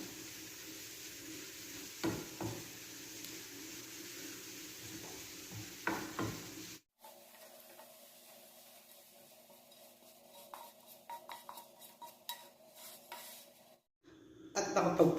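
Garlic frying in a pan while being stirred: a soft sizzle runs under intermittent scraping and clinking of a utensil against the pan, all quiet and close.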